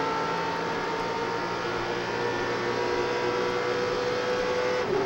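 A NASCAR Cup race car at the 2007 Daytona 500 accelerating up through the gears after the green flag, heard from inside the cockpit as a loud, steady engine roar that holds throughout with no talk.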